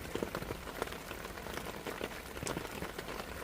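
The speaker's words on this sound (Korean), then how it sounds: "비가 와서" Rain patters steadily on a surface nearby, with scattered louder drops ticking over a constant wash of falling water.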